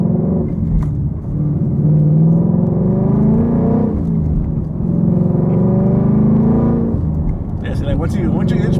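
A supercharged 675 hp Ford Mustang GT pulls away in first gear at part throttle, its engine droning loud and close with rising rumbling tones, while people talk over it throughout.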